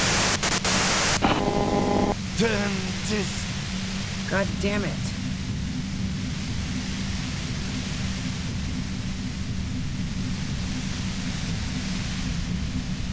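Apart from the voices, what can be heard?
white noise static in Disco Elysium video game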